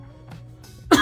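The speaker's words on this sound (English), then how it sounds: "A little cough, lingering little cough." A single short, sharp cough bursts out near the end, close and loud after a quiet stretch with faint throat sounds.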